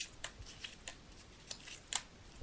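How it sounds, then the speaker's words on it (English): Tarot cards being shuffled by hand, soft papery riffles and taps at irregular intervals, faint and close against a quiet background. "I'm just shuffling the tarot cards"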